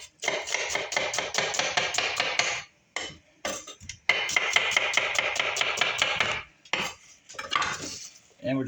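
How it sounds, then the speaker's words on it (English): A knife chops through an onion on a board in rapid bursts of sharp, close taps, each run of strokes broken by short pauses, loud and clear with no talk. "We're going to start out by slicing this onion."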